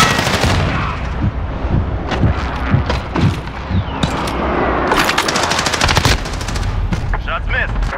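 Rapid bursts of automatic gunfire and single shots crack in the Call of Duty: Modern Warfare 2019 Shoot House map during team deathmatch, loud and close, with thuds and radio-style voice lines mixed under the shooting.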